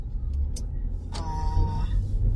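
A rented RV camper van being driven, with a low engine and road rumble filling the cabin, a couple of brief high ticks, and a short electronic tone midway.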